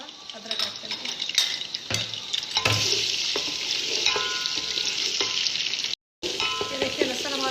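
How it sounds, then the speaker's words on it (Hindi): Garlic and ginger frying in oil for mutton qorma, a steady close sizzle with scraping stirs and a few utensil knocks against the pot, continuous apart from a brief cut near the end. "ये देखिए, लहसुन हमारा फ्राई हो गया।"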